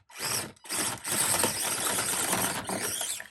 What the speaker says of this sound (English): It's going to be a lot of bumping the throttle and shuddery driving with this ESC, but let's see if we can make it up this angle.